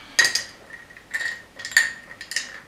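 A mixing spoon clinks against a glass while stirring a gin and tonic, giving a few bright, close ringing taps spaced irregularly in a quiet room.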